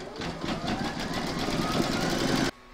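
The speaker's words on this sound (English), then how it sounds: "Pop your hoop into your machine and stitch round number five." An embroidery machine stitching a round on a square scallop placemat hums with a fast, even mechanical chatter of rapid needle strokes, steady and close, then stops abruptly near the end.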